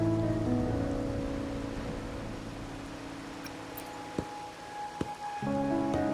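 Steady rain falls in the Wuthering Waves game world, a dense hiss under a low droning tone, with a couple of sharp drips or knocks near the end.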